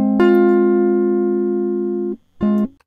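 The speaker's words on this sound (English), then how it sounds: "we're just going to hear some guitar." Electric guitar played through an audio interface, one long sustained note ringing clearly for about two seconds and then cutting off, followed by a brief second note after a short gap.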